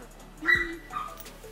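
A one-year-old house dog trained as a guard gives a single short, sharp bark that slides into a brief whimpering yip, fairly close, with no talking over it.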